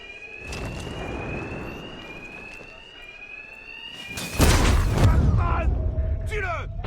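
A rising alarm siren wails through a Batman Arkham Knight scene, holding steady before a loud burst of rumbling impact noise and shouting voices cut in near the end.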